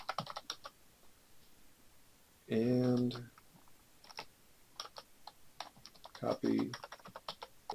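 Quiet keyboard typing while entering commands into a network simulator, with sparse clicks and short key bursts between brief moments of speech from a narrator.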